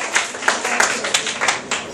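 Students in a teaching class clap for a boy who has done well, a brief burst of hand claps with sharp repeated transients, close and fairly loud.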